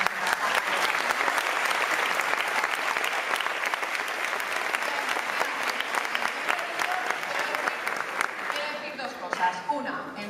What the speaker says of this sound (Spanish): Voy a empezar con un aplauso para ellos